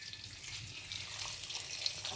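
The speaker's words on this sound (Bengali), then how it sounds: "এই জন্য তুলে নিয়ে এই তেলে একটু ভেজে নেওয়া হচ্ছে" Pieces of raw mango fry in hot oil for a sweet pickle, giving a close, continuous hiss and bubbling sizzle over a short stretch with no voices.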